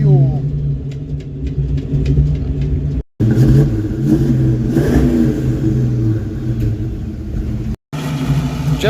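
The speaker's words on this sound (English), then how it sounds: "this is our 1982 Ford Mustang GT we just picked up" A 1982 Ford Mustang GT engine runs and revs loudly at a gas station, a steady rough rumble with rising throttle swells, two brief cutouts, and voices talking over it.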